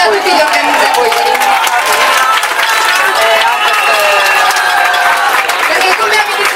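An audience at an Italian civic gathering of associations and organizers bursts into dense, steady applause, with crowd voices and cheering mixed through the clapping.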